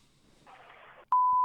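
After a faint, muffled stretch of recorded speech, a loud, steady censor bleep tone snaps on and holds to the end, masking names in a phone or video recording.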